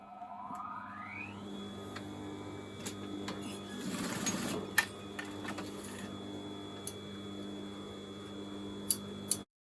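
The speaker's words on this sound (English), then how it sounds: "where I've got these little bits of overlocking, I'm just going to be tacking them down" A sewing machine runs steadily for nearly ten seconds, stitching to tack down bits of overlocking on a homemade top, with a constant close mechanical hum, a brief louder surge midway and a few sharp clicks near the end.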